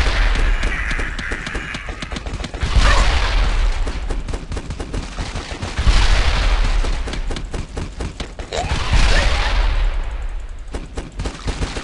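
Rapid bursts of gunfire in The Last Stand 2 crackle continuously, with heavier booming volleys swelling every few seconds over a dense, loud barrage.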